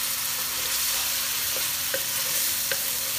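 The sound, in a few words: ginger garlic paste sautéing in hot oil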